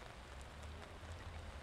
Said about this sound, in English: The rain's starting to let up.